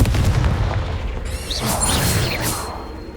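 Confringo spell blast in Hogwarts Legacy: a heavy low boom with crackling, whooshing magical bursts and swirling tones over about three seconds, loud and close.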